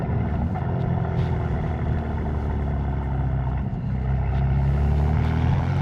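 A steady low exhaust drone hums from inside a 2026 BMW M4 Competition xDrive with a catless exhaust, around 2000 rpm, constant and fairly loud, with no talking.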